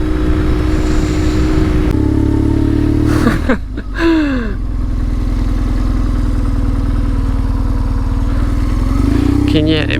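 BMW R 1150 GS Adventure motorcycle riding on the road, a steady loud engine drone with a brief dip and swell as it slows and picks up again, under someone talking.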